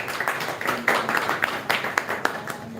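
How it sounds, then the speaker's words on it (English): Audience at a Quaid celebration event clapping for a chief guest, a brief burst of scattered hand claps with a voice partly overlapping. "please clap for him"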